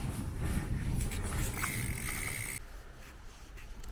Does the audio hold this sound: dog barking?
no